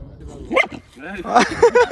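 A dog barks and yips in short bursts at close range, mixed in with people talking nearby in an outdoor setting where beef ribs are being roasted.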